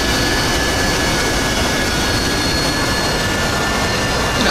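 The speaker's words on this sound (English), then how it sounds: "That's a lot of jets." Jet engines idling and taxiing on a crowded runway in the flight simulator DCS World, a loud, steady, broadband roar with a thin high whine running through it, no voices.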